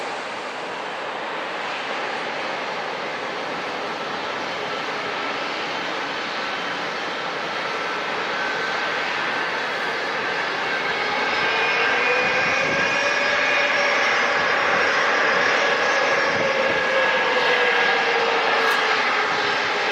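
A Southwest airliner lands at San Diego International Airport, steady engine roar with a whine that dips and rises, growing slightly louder toward the end, close and continuous.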